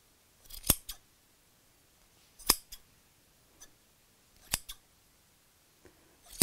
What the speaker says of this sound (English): snip through the loops